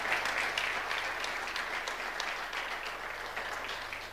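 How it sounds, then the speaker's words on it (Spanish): Audience applause in a church during a sermon: steady, dense clapping from the congregation, moderately distant, with a faint low hum beneath it. "Y este aplauso que le van a dar todos acá es para ustedes."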